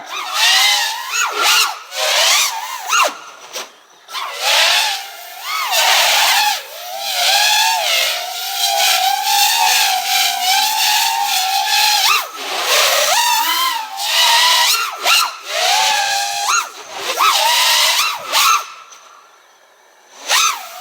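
A 6S FPV racing quadcopter flying line of sight in a backyard, its high motor whine rising and falling continuously with sweeping throttle pitch changes, loud and fairly close throughout.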